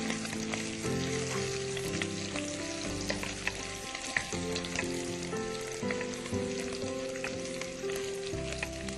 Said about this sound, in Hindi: तो इसे ज्यादा नहीं फ्राई करना है हमें नहीं, प्याज को, नहीं, हल्का सिर्फ हमें- गुलाबी रखना है।